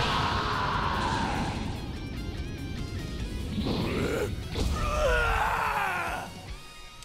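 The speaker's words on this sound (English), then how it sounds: "I wish this Broly just didn't scream." Broly screaming in Dragon Ball Sparking Zero, a loud, strained, continuous roar of a battle cry held for several seconds over crashing fight effects, swelling near the end before fading.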